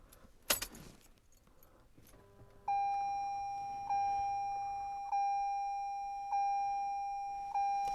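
A Ressha Melody Box aftermarket train-style chime in a 2018 Toyota C-HR rings out, a bright tonal ding repeating evenly about every 1.2 seconds after a short handling clatter, loud and close with no talk.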